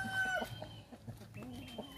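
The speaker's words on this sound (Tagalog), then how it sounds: "Ito yung 6 months old natin na Black Australorp." A six-month-old Black Australorp chicken on a free-range farm clucks in a series of short, close calls, with one drawn-out crow-like note partway through and quiet background noise around it.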